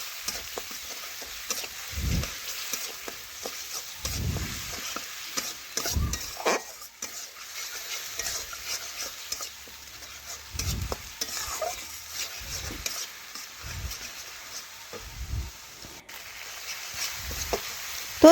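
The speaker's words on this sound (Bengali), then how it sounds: "এখন নাড়াচাড়া করে মশলা একটু ভেজে নিচ্ছি" Spice paste frying in a pan crackles with a soft sizzle under repeated spoon-stirring scrapes and knocks, which come in uneven bursts, close and fairly quiet, with no talk.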